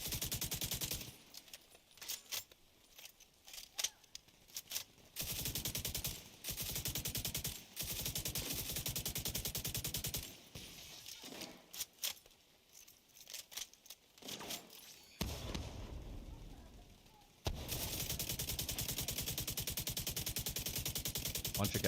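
Rapid sniper and automatic gunfire in a The Division 2 match, dense bursts of shots coming in sustained stretches broken by short quiet gaps, loud and close throughout.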